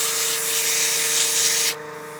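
220-grit sandpaper rasps against a pen blank spinning on a wood lathe at about 700 RPM while turning a premium pen kit. A steady, close, hissing scrub runs with a faint hum beneath and stops abruptly near the end.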